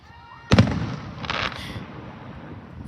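Fireworks exploding near the ground outdoors: one sharp, loud bang followed by a crackling second burst and a fading rumble.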